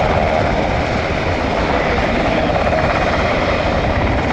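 A military helicopter in flight on a training sortie, its rotor and engine noise a loud, steady, continuous roar that fills the whole stretch without letup.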